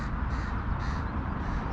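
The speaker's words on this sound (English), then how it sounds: "Look at that crow." A crow caws repeatedly in an open field where a hawk is also about, the harsh calls moderately close over a steady broadband outdoor background with no talking.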